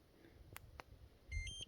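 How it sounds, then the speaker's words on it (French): A short electronic beep from a Tuya electric scooter, faint and close, following a couple of soft clicks of its button in a quiet room. "ça fait un deuxième bip"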